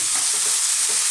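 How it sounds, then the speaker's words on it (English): Onions and beef frying in a Chinese beef and bean stir-fry with oyster sauce, a loud close hissing sizzle with faint stirring scrapes, continuous through a brief moment. "now our onions are starting to cook nicely."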